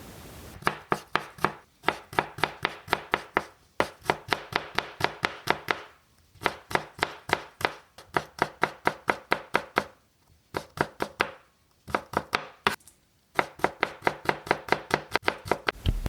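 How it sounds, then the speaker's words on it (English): Rapid knife chopping on a board in quick rhythmic bursts separated by short pauses, close and crisp, no talking. "and the chopping of vegetables."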